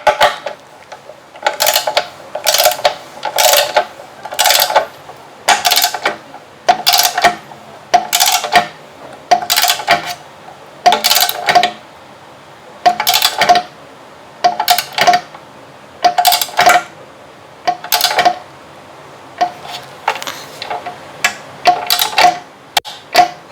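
Torque wrench tightening Akrapovic muffler bolts on a Honda Monkey motorcycle, loud, close, sharp ratcheting clicks in about twenty short bursts separated by brief pauses, with no talk.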